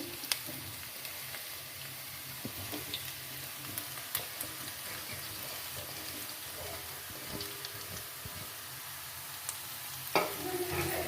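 Mashed boiled potatoes and chopped green chilies being stirred together in a pan, soft scraping and squelching under a steady sizzle, with occasional sharper clicks of the utensil and no speech.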